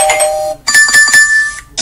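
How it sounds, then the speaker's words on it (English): A doorbell chime from an audio game plays twice: a short ring that fades, a brief gap, then a longer multi-tone ding-dong sequence, clear and close with no voices. "Sound is doorbell."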